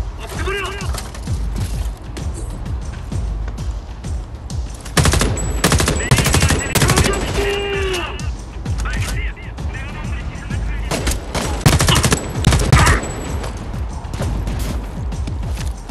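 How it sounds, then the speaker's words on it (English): Repeated bursts of automatic gunfire and single shots in the video game Homefront: The Revolution, loud and close, mixed with game effects and occasional voices. "we're hearing a lot of gunfire"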